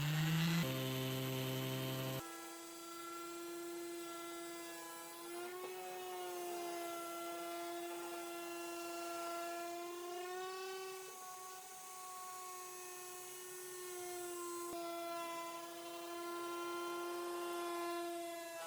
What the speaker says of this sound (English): I start with a 120 grit sandpaper to help remove the old finish, then I move to a 220 grit to smooth everything out